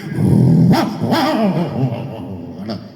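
A dog growls low and rough, then lets out a few short barks, close and loud, with a whimpering edge toward the end.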